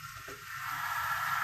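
A steady sizzling hiss of tomatoes frying in a pan builds slightly and holds, close by, with no voices.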